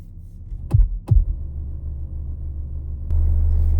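Inside a car, a JL 8W7 subwoofer plays a 25 Hz bass test tone that kicks in abruptly near the end as a loud, steady low hum over engine-like rumble, after two brief knocks.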